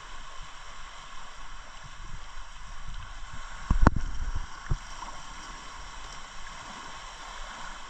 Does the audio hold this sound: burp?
no